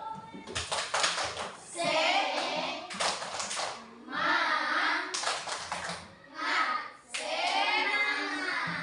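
In a school classroom, children perform a rhythmic 'tepuk semangat' clap, chanting together in short bursts punctuated by sharp hand claps, close and lively, with pauses between phrases.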